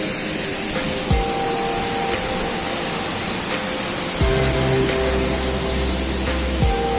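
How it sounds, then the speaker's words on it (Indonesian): Lai Pandaro waterfall near Pusuk Buhit by Lake Toba, beside a road in the rain: a steady, loud broadband roar of falling water fills the whole stretch, with a low engine-like hum joining briefly. "Tapi ini sudah di dekat air terjun"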